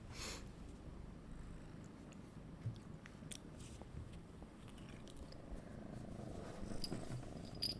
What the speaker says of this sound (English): she's back to purring.